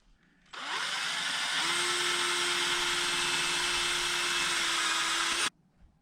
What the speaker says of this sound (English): take the tape off and drill the rest of them out